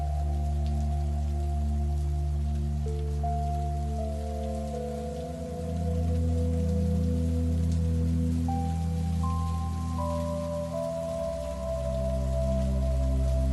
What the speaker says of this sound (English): Outside the window, the rain continues to fall slowly.